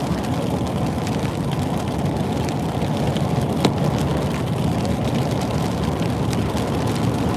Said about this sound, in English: man, I can still hear that wind.